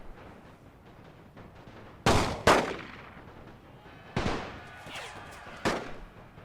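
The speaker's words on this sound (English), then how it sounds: "Enemy cavalry is now moving forward, firing on the snipers." Gunfire from Russian cavalry in The Great War 6.0 strategy game: a few sharp, loud shots spaced seconds apart, some in quick pairs, each with a decaying tail over a low battlefield background.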